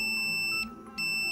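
A multimeter in continuity mode gives a steady, high-pitched electronic tone that cuts out briefly and then returns. It signals a short circuit while the voltage regulator of a BMW F 800 GS motorcycle is being tested and replaced with an SH775 unit.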